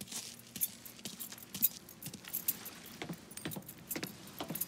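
Keys jangling in the video game Mafia 3, a steady metallic jingle of a key bunch, close and continuous for several seconds alongside a faint car presence, no talk.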